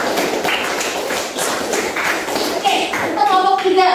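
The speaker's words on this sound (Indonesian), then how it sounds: "Kasih aplaus satu kali lagi untuk" Students applaud their classmates' groups in a classroom: a short burst of brisk hand clapping and tapping, fairly close, with a voice speaking over it.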